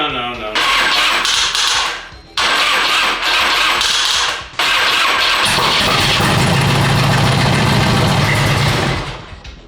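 A motorcycle engine cranks and catches twice in short bursts, then roars into a steady, loud, rumbling idle that continues to the end.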